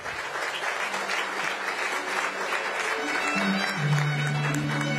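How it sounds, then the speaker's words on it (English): An awards ceremony audience in Delhi applauds with steady, dense clapping throughout, and a low musical tone swells in near the end. "A huge round of applause, ladies and gentlemen."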